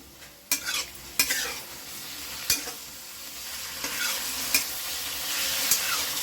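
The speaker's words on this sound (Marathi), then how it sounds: "चिकन असं परतून घ्यायचं तेलामध्ये।" Chicken sizzles in hot oil for fried rice while a spatula stirs it, sharp scrapes and clacks every second or so over a continuous close frying hiss.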